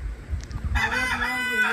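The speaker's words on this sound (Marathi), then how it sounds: "हा जो कोंबडा दिसतो ना पांढरा, हा दिवसभर आरावायचा" A white rooster crows at a Konkan village home near cashew farms, its loud harmonic call starting partway through and running steadily to the end over low background rumble.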